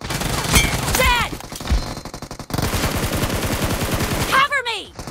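Rapid automatic gunfire in the mobile battle game PUBG Mobile, loud dense bursts of shots with short gaps, ringing over game effects and whooshing sounds.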